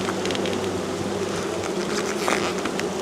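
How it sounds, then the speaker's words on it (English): Honeybees buzz densely and continuously at close range while a brood hive is opened for inspection, a steady insect drone filling the whole stretch with no talk. "There's a lot of bees in here."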